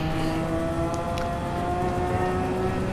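Porsche 996 engine held at full throttle in a racing game on the Nordschleife, a steady high-pitched drone with layered harmonics that stays loud and constant throughout, with no gear changes.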